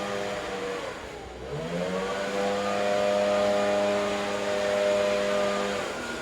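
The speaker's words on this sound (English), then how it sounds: "The car is coming inside on its own." A Tesla electric car, called by key-fob Summon, creeps in on its own with a smooth, gradually rising motor whine and tyre hum that grows slightly louder as it approaches.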